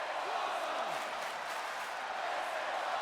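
The crowd at a WWE 2K20 wrestling match roars in a steady, continuous wash of cheering, with a commentator's voice running over it.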